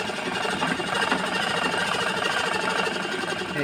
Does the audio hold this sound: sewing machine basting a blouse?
yes